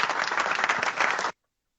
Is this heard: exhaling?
no